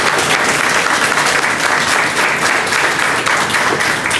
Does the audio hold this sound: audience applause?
yes